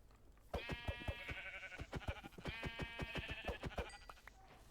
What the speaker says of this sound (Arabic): في خروف اسود هناك